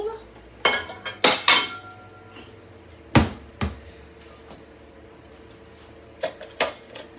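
A bowl is taken out in a home kitchen with a few sharp clinks and clatters of dishware, close and loud, in two bursts separated by a quiet stretch, with no speech.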